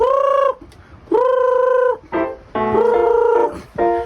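Loud, close poultry calls, several drawn-out honking clucks in a row with short gaps between them, no talking.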